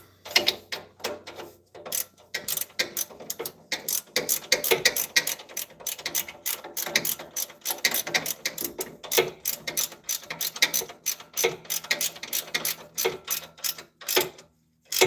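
A hand ratchet clicks in rapid, uneven runs of pawl ticks while bolts are tightened during a 1996-2005 Chevy Astro AWD exhaust install, close and alone with short pauses between strokes.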